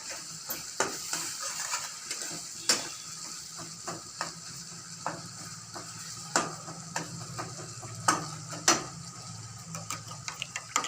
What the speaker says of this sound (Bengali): এবার লো ফ্লেমে আস্তে আস্তে করে মশলাটাকে কষিয়ে নেব।